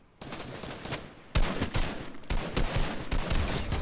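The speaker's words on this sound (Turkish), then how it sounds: "Şuradan silah sesleri geliyor." Bursts of rapid gunfire erupt in repeated volleys, loud and close, with brief pauses between the automatic bursts and no talking, in the video game Fortnite.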